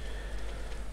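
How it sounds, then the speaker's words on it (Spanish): Warm rain falling in the farming game Stardew Valley, a steady soft hiss of drops on the ground that stays even and fairly quiet throughout, with no voices. "Una lluvia cálida, una forma agradable de limpiarse."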